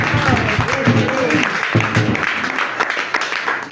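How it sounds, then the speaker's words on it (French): A church congregation in a village in southern Cameroon applauds for the Lord, with sustained, dense clapping that holds steady throughout, while a voice speaks over it near the start. "Acclamons pour le Seigneur"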